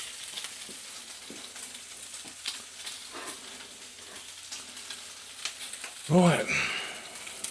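Bacon and black pudding frying in a pan, a steady soft sizzle with scattered pops and stirring clicks, one louder burst near the end, with a brief spoken word.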